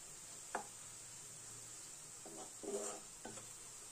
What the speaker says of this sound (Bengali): আমি এটা ভেজে নিচ্ছি। চুলার আম আমি মিডিয়াম টু লো আঁচে রেখেছি।